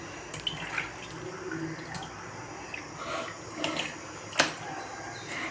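Raw chicken gets washed with water by hand for a Tamil home-style uppu kari, with soft splashing, dripping and sloshing at a low, irregular level.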